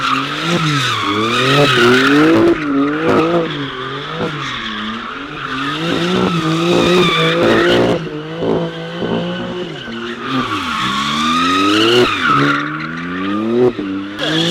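A street-drifting car's tires squeal and skid in long, loud, wavering screeches, repeating in waves as the car slides, with engine noise underneath and no talk.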